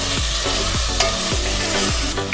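Tomatoes with red chili powder and salt sizzle loudly in a pan while a spoon scrapes through them in regular, repeated strokes, close and steady, with no voices.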